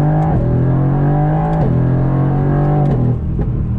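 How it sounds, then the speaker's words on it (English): A 2020 Mercedes-Benz AMG GT R accelerating hard in first gear, a loud, close, steady engine roar rising in pitch in repeated sweeps with brief drops at shift points, no talk. "Let's do a little acceleration test here."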